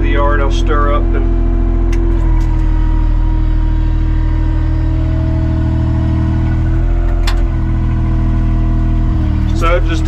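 A Bobcat L28 compact tractor's engine warms up at a steady, loud, low idle throughout, with brief higher-pitched mechanical squeaks near the start and end.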